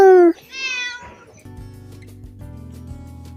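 A cat meows twice in a snowy Himalayan village, with a short high call and then a longer wavering one, close and clear. A quiet low hum follows.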